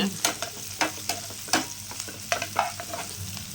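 Onions sauté with quail and a pinch of salt in a pan, sizzling steadily while a spoon stirs through them with repeated scraping knocks, loud and close.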